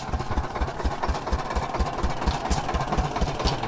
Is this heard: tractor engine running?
yes